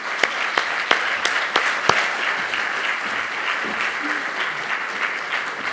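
An audience at a round-table discussion on urban climate adaptation claps steadily for several seconds, with a few sharper, louder claps standing out near the start.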